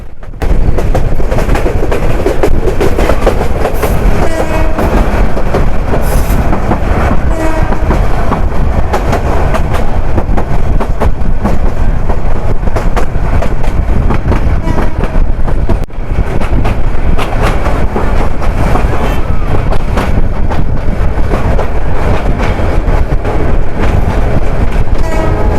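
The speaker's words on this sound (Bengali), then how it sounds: "মানিকখালী থেকে এখন ট্রেন ছেড়ে দিল।" The Egarosindur Provati passenger train on the Dhaka to Kishoreganj line rumbles loudly and steadily, heard from on board, with continuous wheel and carriage noise and clattering track sounds across the whole stretch.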